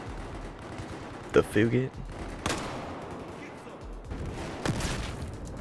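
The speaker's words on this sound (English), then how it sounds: "Someone's shooting at us." Gunfire in the video game Battlefield 4: a loud burst of shots followed by scattered, fainter reports, with someone talking over the action.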